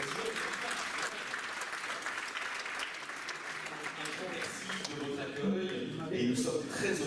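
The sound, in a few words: audience applause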